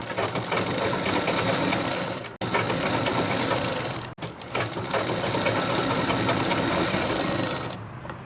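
Sewing machine stitching the double-folded hem of a men's kurta, running in a steady, loud continuous whir with two brief stops before resuming.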